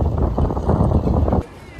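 Wind buffets the microphone at a seaside marina in Swansea, a loud, rough rumble under a person talking that drops away near the end.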